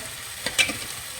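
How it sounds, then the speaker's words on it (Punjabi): Tadka sizzling as it is poured onto sarson ka saag, a brief bright hiss swelling for a moment over a steady low frying background, close and fairly loud, with no talking. "ਬਸ ਆਪਾਂ ਇੰਨਾ ਕੇ ਤੜਕਾਂਗੇ ਸਾਗ ਨੂੰ"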